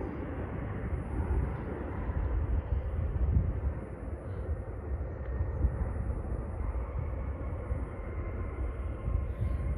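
A passing airplane at Marina Park in San Leandro, California, a steady, loud broadband engine roar that holds throughout at a distance, with no talk.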